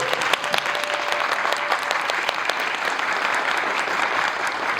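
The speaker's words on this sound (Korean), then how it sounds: "이 배우들한테도 큰 박수 한번 부탁드리겠습니다" Audience at a musical stage greeting for the show Malli, clapping steadily for the cast: a dense, sustained patter of many hands with sharper individual claps poking through, moderately distant.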